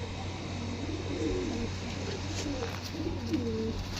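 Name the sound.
pigeons cooing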